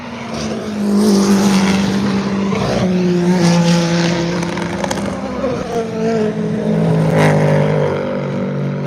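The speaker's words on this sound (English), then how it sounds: "That is a Mustang." A Ford Mustang race car roars past trackside at Le Mans at night, its engine note swelling and shifting pitch as it passes, loud and close, with further engine drone carrying on behind.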